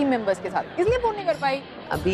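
A busy railway station crowd murmurs in the background while someone talks close by on the phone.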